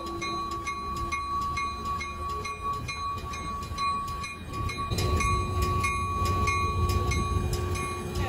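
A Mauritanian iron ore train from the Zouerat mine line rumbles on, with its locomotive droning under steady sustained tones. Rhythmic rail clacks get louder and fuller partway through.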